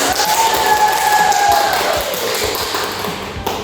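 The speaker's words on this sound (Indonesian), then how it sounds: "tepuk tangan untuk kita semua" Class applause in a school lesson, a steady wash of clapping with scattered taps and a thin whistling tone over it, lasting a few seconds.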